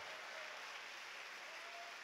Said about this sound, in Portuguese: Vamos aplaudir ao Pai.